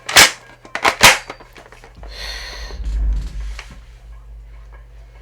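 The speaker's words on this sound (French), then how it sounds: "En tirant sur la poutre, je vais pas tirer sur la cible parce qu'il y a des gens et que ça résonne contre le mur" Two sharp gunshots crack in quick succession, fired indoors at a wooden beam beside a wall, close and loud with a resonant tail. A short spoken word and some rumbling movement follow.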